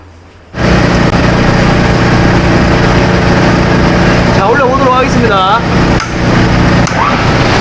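A three-phase electric motor, wired through a three-phase breaker and selector switch, starts abruptly and runs with a loud, steady hum, while someone talks over it.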